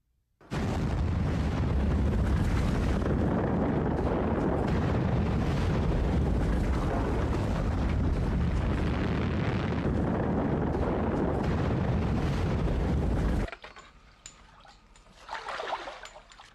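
Massive volcanic eruption of Toba in Sumatra, a loud continuous roaring rumble sustained for about thirteen seconds before cutting abruptly to quiet, followed by a brief faint swell.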